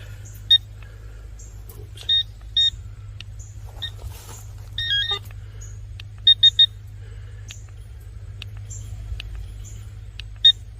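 A metal detector sweeping a field gives sharp electronic beeps, singly and in a quick triple, spaced irregularly over a low steady background rumble.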